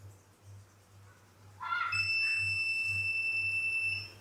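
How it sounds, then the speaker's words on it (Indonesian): An oven's timer alarm gives a brief rising chirp, then a shrill, sustained electronic tone for about two seconds over a low, steady electrical hum. "alarm menjerit sesuai durasinya"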